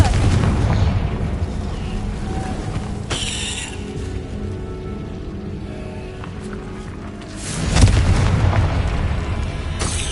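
Confringo spell explosions in Hogwarts Legacy: a sharp boom followed a few seconds later by a heavier, louder blast, both set against constant rumbling game ambience.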